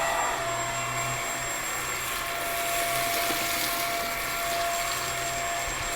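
A Bissell CleanView XR Pet vacuum cleaner runs on carpet with a steady, loud motor whine and airflow roar, held close and constant throughout.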